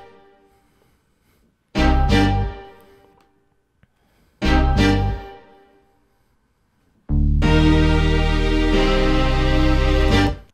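Gritty synth bass from a Phantom G6 keyboard hits twice as separate loud notes that decay, then plays a sustained dense passage together with a beat, close and loud with no voices.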